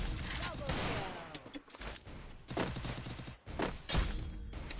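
Sniper rifle shots in a video game ring out as several loud, booming reports with echoing tails, spaced irregularly across a few seconds over a busy game soundscape.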